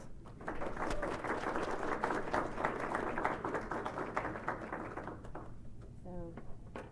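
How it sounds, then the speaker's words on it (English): Audience at a lecture applauding for Dr. Gina Pérez, a moderate wash of clapping from a room that tapers off before a voice begins speaking. "please give a hand of applause for Gina Pérez"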